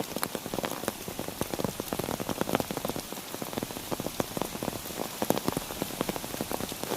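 Heavy rain pours steadily onto a campsite, a dense, continuous patter of drops hitting surfaces close by, with no voices.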